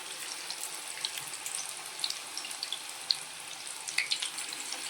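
Spinach pakoda, palak fritters, frying in hot oil, with a soft continuous bubbling sizzle and scattered light crackles and pops at moderate volume.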